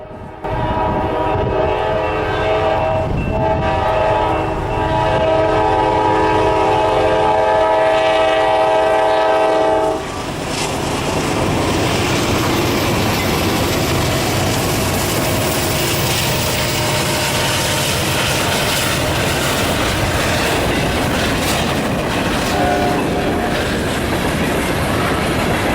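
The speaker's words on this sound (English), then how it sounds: "The first train we saw here on this cold winter day was a southbound CSX freight being led by another standard cab." A southbound CSX freight train rolls past on a cold winter day, its horn blaring loud for the first several seconds before giving way to continuous rumbling wheels and rhythmic clickety-clack of passing cars, close and sustained.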